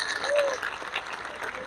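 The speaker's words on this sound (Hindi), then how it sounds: "जोरदार ताली बजा के उनका स्वागत करें।" A crowd at an outdoor political rally on a police ground in Bilaspur claps in a dense, steady burst of applause that holds at an even level throughout.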